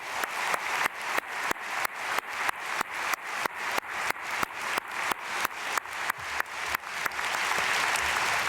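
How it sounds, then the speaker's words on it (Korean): Congregation claps in blessing during an early-morning church prayer service, a regular rhythmic beat of about three claps every second, moderately loud and unaccompanied, dissolving into a continuous wash of clapping at the end. "우리 크게 박수로 축복하겠습니다"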